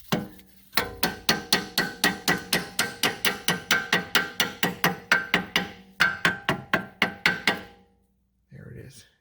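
Hammer tapping a brake caliper into place on a 2014 Infiniti Q50S Hybrid Sport, a quick, even run of about two dozen sharp metallic knocks with a brief pause, close and loud, then a short murmur of voice at the end.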